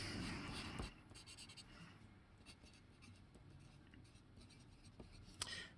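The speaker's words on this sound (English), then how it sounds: "Let me write the problem out" A pen or marker writing out a problem, heard as steady scratching strokes with a few sharper taps. It is faint and close, with no talking, and opens with a louder burst of rustling.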